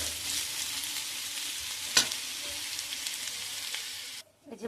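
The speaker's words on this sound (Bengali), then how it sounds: "আলু ভাজাটাও প্রায় হয়ে এসছে।" Potatoes fry in a pan with a steady, dense sizzle, broken by one sharp stir or scrape midway, then the hiss drops off abruptly near the end.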